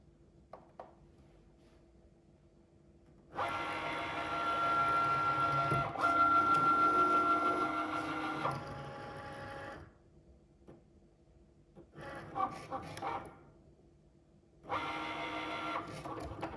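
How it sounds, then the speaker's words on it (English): A Cricut cutting machine cutting out vinyl lettering, with long whirring, buzzing stretches of motor movement and short pauses in between, heard close and alone. "it sends it to the Cricut machine"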